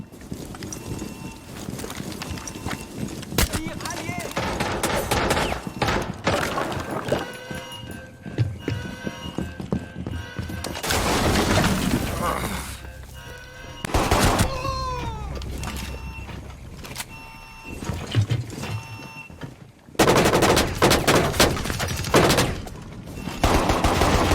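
Gunfire in the video game Rainbow Six Siege comes as loud, dense, repeated bursts of shots, with short gaps between volleys and some brief clattering in between.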